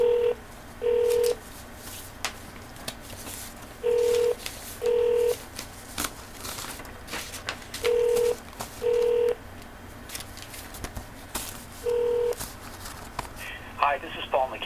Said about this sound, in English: Number I'll be calling is 204 926 1514.